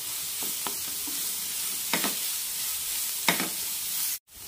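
Cauliflower and red gram stir fry being stirred in a pan over a low simmer, with a few distinct scraping strokes against a steady soft sizzle, near and alone.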